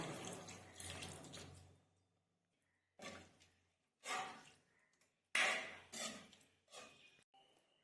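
Water poured into a pan of sautéed bitter gourd while cooking a Tamil-style pavakkai kulambu, heard as several separate splashing pours with short pauses between them, close by and fairly loud, with no talk over them.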